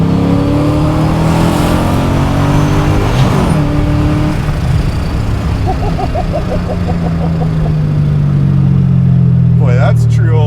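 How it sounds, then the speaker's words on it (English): Supercharged LS-swapped 1974 Toyota Celica widebody accelerating hard with quick speed shifts, the engine note climbing, dropping at each shift and climbing again, loud and close throughout. "that's true old school speed shifting right there"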